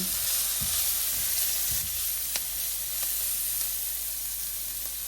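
Spices sizzling in a pan while an okra dish cooks with salt added, a steady close hiss and crackle with a few faint stirring knocks, no talking.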